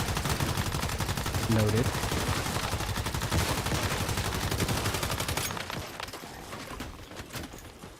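Turrets in the video game Once Human fire rapid, dense automatic bursts that stay loud and continuous for several seconds, then thin out and fade, with a brief voice heard over the shooting.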